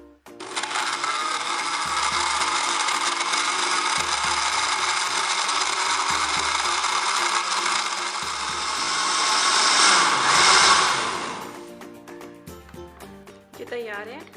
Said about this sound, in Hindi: इसे अच्छी तरह हमने ब्लेंड कर लेना है